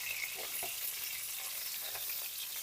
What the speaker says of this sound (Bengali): পটলগুলো আমার হালকা ভাজা হয়ে গেছে,